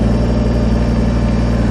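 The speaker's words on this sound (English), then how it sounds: "Turn the throttle up a little bit." A Kubota BX23S compact tractor with an LA340 loader runs its diesel engine at a slightly raised throttle, giving a steady, close, loud low hum with a fine rhythmic pulse and no breaks.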